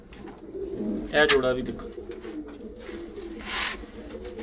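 Pigeons kept by a breeder give soft, throaty coos in short bursts nearby, with someone talking over them.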